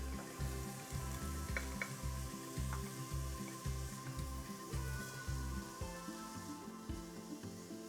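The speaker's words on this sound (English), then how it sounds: "we're just gonna cook the onion until it's slightly softened" Chopped onion and carrots for chicken noodle soup cook in a pot, giving a steady, low sizzling hiss with faint stirring scrapes throughout, no voices.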